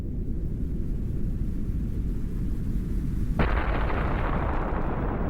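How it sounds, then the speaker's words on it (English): A massive nuclear bomb detonation rendered as a sound effect: a sudden heavy blast erupts over a low, steady rumble and then rolls on as a loud, broad roar, with no voices. "Einstein's equation had a huge impact. It led to the first nuclear bombs."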